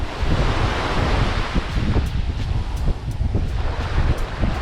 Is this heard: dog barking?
no